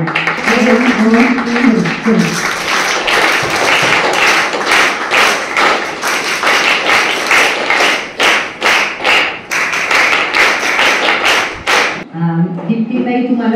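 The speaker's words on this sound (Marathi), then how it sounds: "त्यांचं आपण बालरंजनच्या टाळ्या वाजवून पहिल्यांदा स्वागत करूया" An audience claps to welcome a lecturer at a talk on artificial intelligence, a dense burst of applause lasting about ten seconds between stretches of speech.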